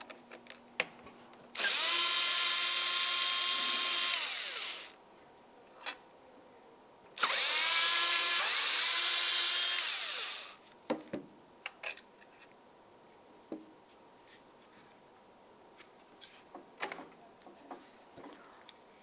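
A power drill removing the 8mm throttle body bolts from a Ford Transit Connect intake, two loud whirring bursts of a few seconds each, followed by scattered clicks and clinks of bolts and tools.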